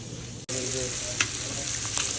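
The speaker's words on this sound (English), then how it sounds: "Shrimp cooking on up." Shrimp fry in a pan with a dense, even sizzle after a brief cut, with a couple of soft utensil taps near the end.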